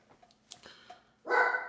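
Dogs bark indoors, a loud burst of barking near the end after a few faint yips and thumps, with no talking over it.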